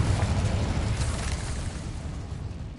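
A Confringo blasting spell explodes in Hogwarts Legacy, a dense, loud rumbling blast that fills the whole moment and slowly eases off.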